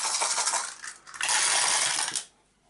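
Several dice rattle and clatter across a tabletop during a board game, two quick bursts of rolling with a brief gap between them, close and crisp, then settling to quiet.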